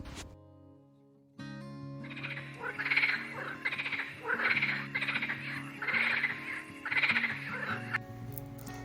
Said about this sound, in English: 青蛙。